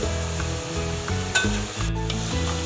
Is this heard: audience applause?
no